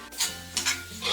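Beef being dry-roasted in a pan, stirred in a few quick scraping sweeps over a low sizzle, close and alone.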